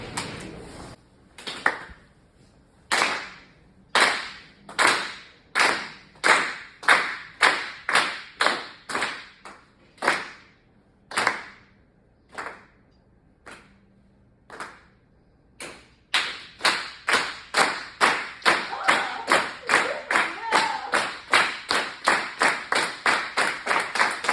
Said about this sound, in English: If I could have you clap with me, yes?